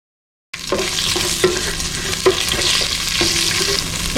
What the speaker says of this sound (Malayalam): നെയ്യിലേക്ക് നമുക്ക് ഹോൾ സ്പൈസസ് ഇട്ട് കൊടുക്കാം.